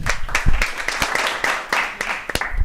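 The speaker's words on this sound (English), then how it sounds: "Let's clap it up" A small studio audience claps for a returning guest on a talk show, brisk uneven hand claps close to the mic for a couple of seconds, with voices mixed in.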